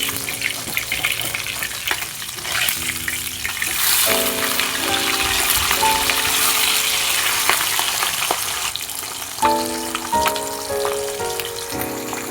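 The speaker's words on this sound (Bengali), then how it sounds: "মাছ একদিকে ভালো করে ভাজা হয়ে গেছে" Fish frying in oil in a pan, with a bright, hissing sizzle that swells and eases, joined by occasional ringing tonal sounds and clatter nearby; no one speaks.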